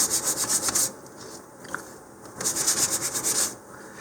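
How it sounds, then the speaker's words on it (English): Estes model rocket fins are sanded by hand with 150 grit sandpaper, making rhythmic, close, raspy back-and-forth strokes in two bursts separated by a short pause. "just sand them smooth"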